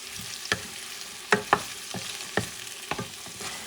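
Vegetables and potatoes frying in a large pot for a collard green and sausage soup, with a gentle sizzle under repeated scraping stirs and clinking of a utensil against the pot at an uneven pace.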